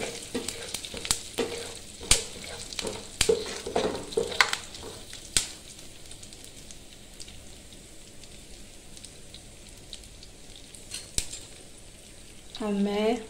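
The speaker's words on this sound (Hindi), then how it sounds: "इसमें डालते हैं मेथी और साथ में हींग। थोड़ा चला देते हैं" Fenugreek seeds and asafoetida fry in hot oil in a pan with a steady crackling sizzle. Sharp spoon-against-pan clicks come in a cluster while stirring, and a brief voice is heard at the end.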